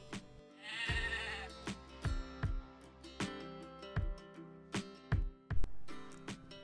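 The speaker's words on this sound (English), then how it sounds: "S-H-E-E-P, sheep." A domestic sheep gives a single wavering bleat early on, set against rhythmic background music with regular thumping beats.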